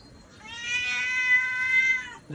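A kitten gives one drawn-out, tonal meow lasting nearly two seconds, clear and close against a quiet background.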